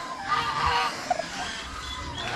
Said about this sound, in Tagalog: Yan oh, bagong sisiw ng pabo.